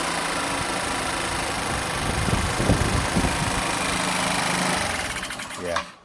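A Zen ZN125 TE motorcycle engine idles with no air restriction, a steady close buzzing putter that holds for several seconds before fading out and cutting off at the end.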